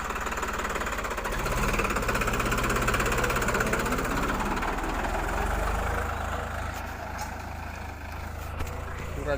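A New Holland 3630 Super Plus tractor engine idles steadily in a low, continuous rumble, loud and near, with voices talking over it throughout.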